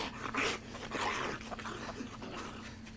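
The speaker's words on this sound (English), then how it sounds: "Oh, I hear dogs." Dogs make a few short, close barking or yipping sounds in the first second or so, followed by quieter shuffling and panting-like noise.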